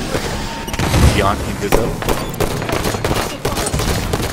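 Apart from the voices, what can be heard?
gunfire in video game Halo 5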